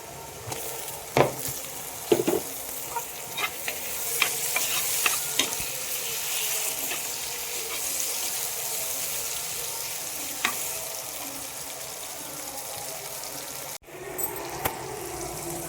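Onions sautéing in a pan for a village-style turkey berry curry, a continuous loud sizzle with intermittent spatula scrapes and taps near the start, a brief dropout and a couple of knocks at the end, and no talk.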